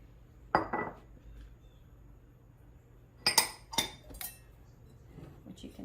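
Flours and spices are mixed in a bowl for pumpkin baking, heard as a few sharp clinks and scrapes of a utensil against the bowl, close and intermittent, with quiet gaps between them.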